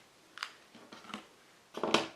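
Scissors cut fabric into 3-inch squares in a few quiet, crisp snips spaced across a short moment, close and soft with no voices.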